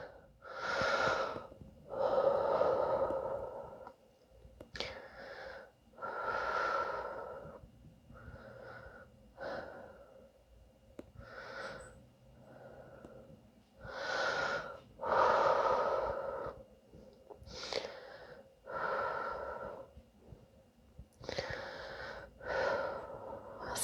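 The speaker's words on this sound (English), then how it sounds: "we're going to try to take some deep breaths" Slow, deep breathing during a yoga pigeon pose: close, audible inhales and exhales alternate in a steady rhythm, some airy and slightly wheezy, with no talking.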